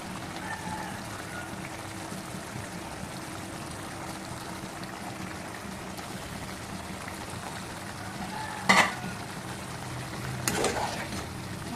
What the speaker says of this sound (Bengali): এখন আমি মাছগুলো একটা একটা দিয়ে দিচ্ছি ফ্রাই করা মাছগুলো